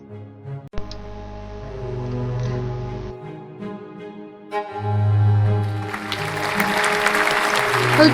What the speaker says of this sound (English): Their cheers and applause surround you.